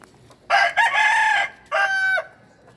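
A rooster crows nearby, a loud drawn-out call followed by a shorter second crow, over a quiet background.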